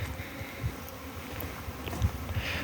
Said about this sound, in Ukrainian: Бджоли літають